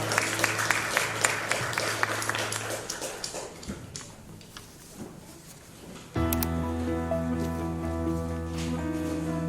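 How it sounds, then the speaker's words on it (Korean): A church congregation at a Sunday worship service claps for several seconds in a dense, close patter that fades, then sustained music swells in. "감사와 영광의 박수 올려드리겠습니다"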